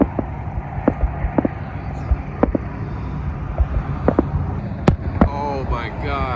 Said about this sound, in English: Oh, there's fireworks.